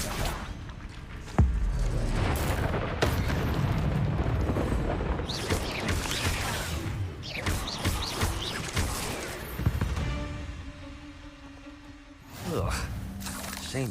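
Incendio fire spells blast repeatedly in Hogwarts Legacy on PS5, with loud whooshing, booming bursts and crackling game effects filling most of the stretch.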